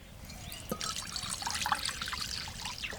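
Water pours into a cooking pot for a jackfruit and potato curry, a short, close trickling splash at moderate level.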